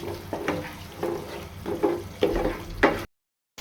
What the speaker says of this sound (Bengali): মশলাটা আমি কিছুক্ষণ কষায় নিচ্ছি